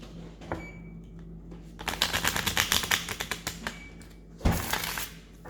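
A deck of cards is riffled close up in a rapid burst of crisp flutters, followed by a sharp tap and a second quick shuffle.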